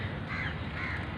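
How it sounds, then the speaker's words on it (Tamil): A crow caws twice among apartment blocks in Boon Lay, Singapore. The two raspy calls come a moment apart, at moderate distance over steady outdoor ambience, with no speech. "சவுண்டுங்களா காக்கா கத்துறது"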